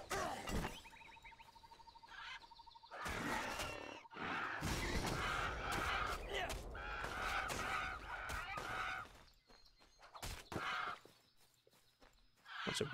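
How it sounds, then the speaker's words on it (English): Birds in the Titan Quest video game squawk and honk in goose-like bursts. Rhythmic clip-clop footsteps run through the middle, with game effects around them, all at a quiet level. "Bunch of birds. Come here,"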